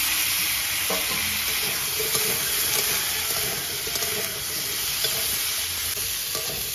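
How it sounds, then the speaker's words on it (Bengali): Sliced potatoes and onions frying in hot oil in a pan for a boal fish ghonto, a loud continuous sizzle with occasional scrapes and knocks of a spatula stirring them. "এবার আলুগুলো দিয়ে পেঁয়াজটাকে একটু আরো একটু ভালো করে ভেজে নেব।"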